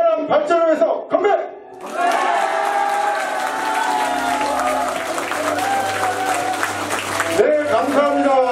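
Crowd at a book launch concert cheers and applauds loudly after a toast, a dense steady roar of voices and clapping lasting several seconds, with a man's speech just before it.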